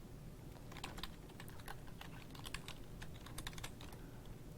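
Rapid, steady typing on a computer keyboard while entering Python code, a close, dense run of light key clicks with occasional louder strikes and no voices.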